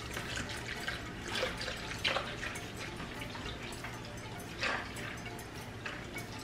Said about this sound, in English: Here I'm going to add water into it.